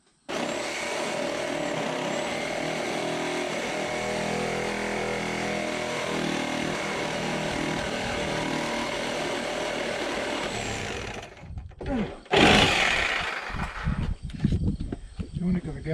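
Loud, continuous power saw whine cutting through screws in a deck during a rebuild with Fiberon decking, running steadily for about eleven seconds before cutting out, followed by clattering handling noises and brief talk.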